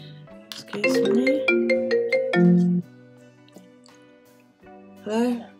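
A phone ringtone plays as a bright, melodic run of chiming notes, fairly loud and close, followed by quieter sounds and a short spoken word at the end.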